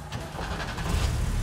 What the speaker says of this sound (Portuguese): Vamos ligar o carro aqui.